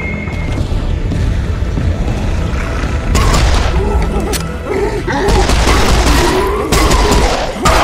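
Gunfire and explosions from the PC shooter game Serious Sam 4, a dense, loud barrage of booming blasts and rapid shots that rolls on continuously with bursts swelling in intensity.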